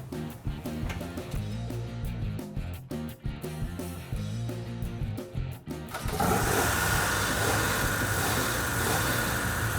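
An older car is started while in neutral: after a stretch of rhythmic tonal sound, the engine catches partway through and settles into a loud, steady, broad running roar that continues to the end.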